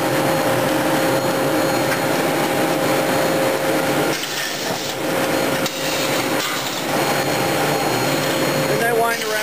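A drop packer on a bottling line drops bottles into empty cases, making a loud, steady mechanical clatter and rattle of glass and machinery that runs throughout with no pauses.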